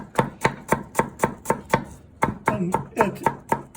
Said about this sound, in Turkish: Biberlerimizi aynı keseceğiz.